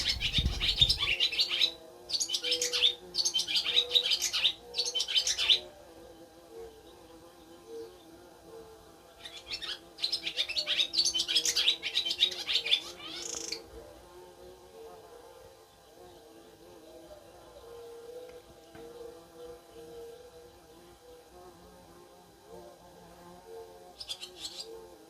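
Birds chirp outdoors near their nest in short bright bursts of rapid tweets that come and go, while a soft low cooing and faint insect-like hum run underneath.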